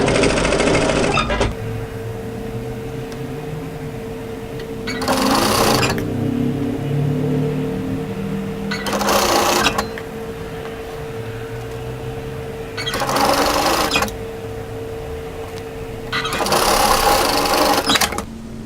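A home sewing machine runs in four bursts of stitching, tacking stretched elastic onto a tie-front dress band, with quieter pauses of handling between them and a steady low hum throughout.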